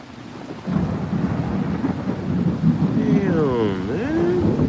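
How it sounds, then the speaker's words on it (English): Heavy rain pours steadily through a July evening thunderstorm, a dense hiss that swells loud from under a second in and holds, with a brief warbling, whistle-like tone rising over the downpour near the end. "it's really raining right now"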